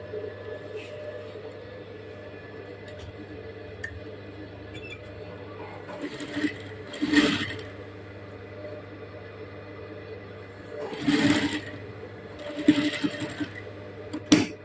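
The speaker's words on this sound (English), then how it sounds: "then you go ahead and sew from this notched part, that's from this stitch to the other stitch." Sewing machine stitching lace fabric along a notched neckline edge, a soft low hum with brief louder bursts of rapid needle chatter, close and without talk.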